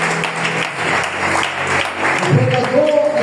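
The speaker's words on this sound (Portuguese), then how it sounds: "Aplauda a Jesus." Congregation applauding in a church service, a continuous layer of clapping and crowd noise mixed with voices throughout.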